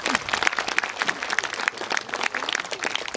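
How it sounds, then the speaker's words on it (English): An audience at a Peter Snell tribute event applauds a brass band after their performance, a dense, steady wash of many hands clapping that holds at an even level throughout. "So a wee round of applause to thank you."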